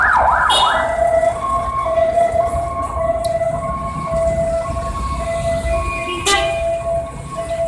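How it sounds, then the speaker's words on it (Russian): An ambulance siren wails steadily through busy Giza street traffic in Egypt, its repeating tones sustained over the engine rumble, with a horn toot near the end. "Там скорая поехала."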